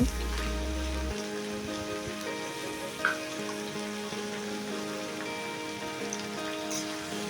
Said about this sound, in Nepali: भुट्दै पकाउने हो प्याज क्याप्सिकमलाई चाहिँ मजाले